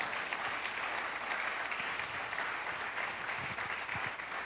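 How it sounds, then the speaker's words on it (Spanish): Steady applause from a church congregation at a Sunday Spanish-language service, dense and continuous clapping that fills the whole stretch at a moderate distance, with no speech over it. "¿Puedes aplaudir al Señor por eso?"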